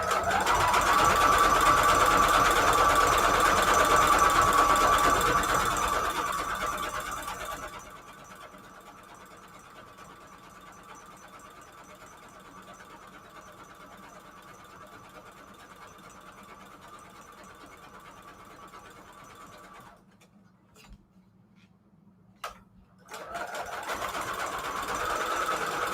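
A sewing machine stitches trim onto a handmade Christmas junk journal, its steady mechanical whir loud and continuous at first, then running more quietly, with a few brief stops near the end.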